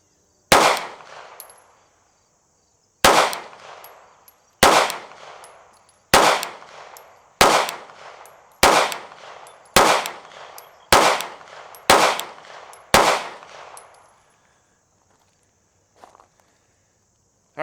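Ten sharp gunshots firing 125 grain Brazos bullets crack out at a steady pace about a second apart, each ringing briefly, followed by quiet.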